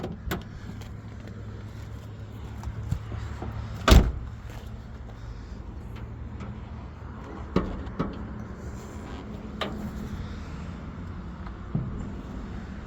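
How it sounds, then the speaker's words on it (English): Car door latch clicks and clunks inside a vintage car in mint condition, one sharp loud snap followed by several fainter clicks and knocks over a low hum, with no talking. "The door latch, how you open the door."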